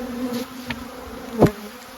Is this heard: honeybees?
yes